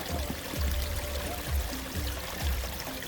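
Wild river water in the African savanna flowing steadily, a broad rushing wash with soft pouring surges, moderately loud and continuous with no voices.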